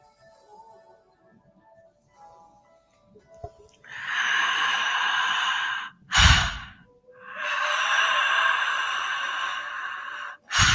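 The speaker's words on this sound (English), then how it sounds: "Nice deep breaths." Deep breathing during breath work: long, loud, airy exhales up close, each lasting a couple of seconds, separated by sharp inhales, with no talking.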